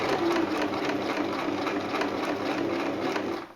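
A sewing machine sews stretch fabric in one continuous close run, a loud steady motor hum with fast needle chatter throughout that cuts off sharply at the end.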